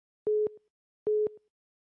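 Two identical beeping busy-signal tones, each a steady pulse about a quarter second long and repeating, sound clearly and alone after a dropped phone-in call on a live show.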